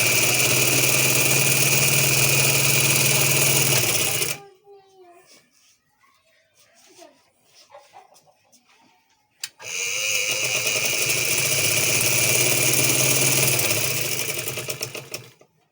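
An electric sewing machine stitches a salwar seam, loud and close, in two sustained runs of whirring motor hum with a quiet pause between them where faint handling sounds occur.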